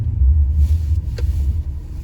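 Car driving home at night through snow: a heavy, low road rumble holds steady and close, with faint hiss from the tyres and no voices.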